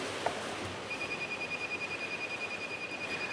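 A moisture meter held against a saturated wet deck emits a steady high-pitched electronic alarm tone that starts after a brief click and continues unbroken, thin and moderately faint over a broad background hiss.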